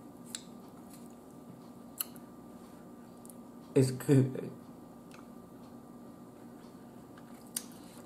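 Someone eats Cornish hen with garlic mashed potatoes and corn close to the mic, and a couple of brief, wet chewing smacks stand out midway through an otherwise quiet stretch with only a few faint ticks.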